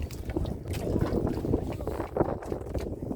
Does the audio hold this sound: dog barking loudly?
no